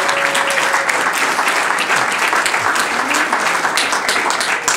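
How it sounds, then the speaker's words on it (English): Audience applause at an evening event with the mayor, a continuous wash of many hands clapping, loud and near, holding steady for several seconds with a few voices faintly underneath. "Let's have a big round of applause for the sponsors and volunteers who made tonight possible."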